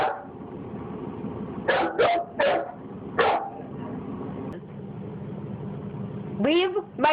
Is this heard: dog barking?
yes